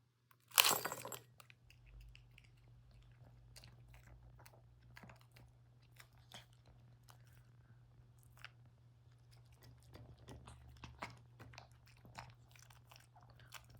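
A small dog chews and crunches food, with quiet, irregular bites and clicks against a low steady hum, after one sharp knock at the start.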